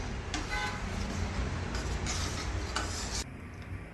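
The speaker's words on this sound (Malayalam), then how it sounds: "ഇതിനൊന്ന് ഇളക്കി കൊടുക്കാം." Several scraping stirring strokes through steel-cut oats upma and water in a pan over a soft background sizzle, with no one talking.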